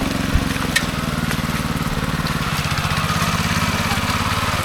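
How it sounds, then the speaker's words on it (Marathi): A tractor engine works in a Konkan paddy field, a loud, steady, throbbing mid-pitched drone with a regular pulsing beat close to the listener. "ट्रॅक्टर त्या कोपऱ्यात घेत आहेत"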